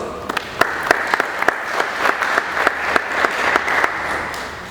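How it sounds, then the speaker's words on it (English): Applause at an arts talk in Harare for an award-winning artist: a moderate round of clapping with several sharp, distinct claps standing out near the front, steady for several seconds. "Maybe we can give them a round of applause."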